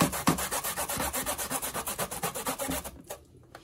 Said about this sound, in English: I'm gonna grate it to show you how I grate my sweet potato